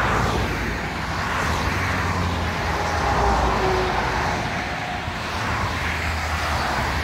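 Steady roadside traffic in Mahmutlar, Alanya, Turkey forms a continuous broad wash of passing cars, an even rumble and hiss with no distinct pauses, heard from the pavement at moderate volume.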